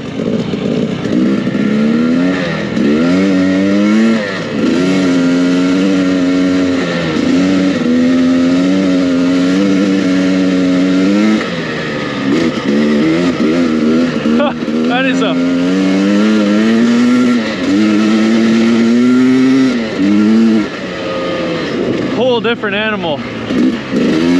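A 2023 Husqvarna TE300i two-stroke dirt bike engine drones loudly while being ridden, its pitch rising and falling with throttle changes throughout. A rider talks over the engine noise.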